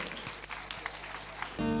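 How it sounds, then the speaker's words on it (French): An audience at a choral culture event applauds in a short burst of dense, steady clapping, cut off by a sustained musical tone at the end. "on les applaudit pour donner le top"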